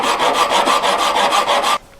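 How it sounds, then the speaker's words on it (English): A metal file rasps back and forth across the end of a handmade earring post to flatten it, about eight quick, even strokes close up, then stopping abruptly. "First, file the end completely flat."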